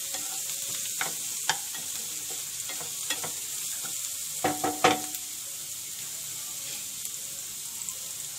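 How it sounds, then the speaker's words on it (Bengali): Garlic fries in about two spoonfuls of oil for Mughlai paratha, a steady soft sizzle broken by occasional clicks and scrapes of a spoon stirring the pan, with no talking. "রসুনটা একটু ভেজে নেব।"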